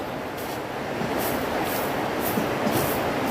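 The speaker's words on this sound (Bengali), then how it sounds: "এই যে দেখিবার পাচ্ছেন ট্রেন খান চলে আসিল" A Kolkata Metro train arrives at the station, its dense rumble and rolling wheel noise building and holding steady at close range, with faint periodic high hisses and no voices.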